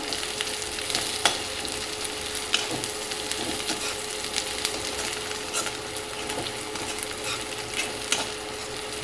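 Onions sizzle and fry in a pan with chilies as they are stirred, a steady close crackling hiss with occasional scraping stir strokes, moderately quiet and without speech.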